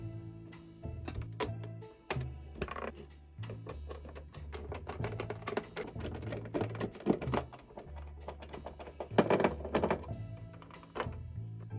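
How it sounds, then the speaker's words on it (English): Screws being backed out of the underside of a PS2 console, beneath its four feet and two plastic hatches: close, irregular clicks, taps and dull thunks of a screwdriver and handling against the plastic shell, with no talking. "flip over our PS2 and remove 6 screws underneath these 4 feet and these 2 plastic hatches here"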